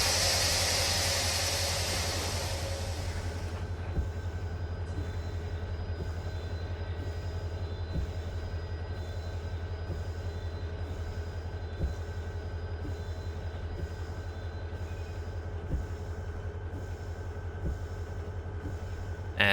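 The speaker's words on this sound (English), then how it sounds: "we'll go ahead and start slowing down the train" A freight train in Run8 Train Simulator slowing to a stop with brakes applied, a steady low rumble and hiss of rolling cars with faint periodic wheel clicks, a broadband rush fading early, no talking.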